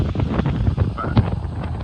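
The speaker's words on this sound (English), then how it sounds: "the wind isn't as bad as what it used to be, but the winds are still consistent" Consistent hurricane winds battering the microphone outdoors, a short, rough rush of buffeting gusts with uneven rumbling pulses.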